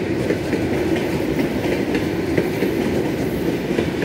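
An electric commuter train from Elektrogorsk rolls along a Moscow suburban platform, a loud steady rumble with rhythmic wheel clatter over the rails throughout.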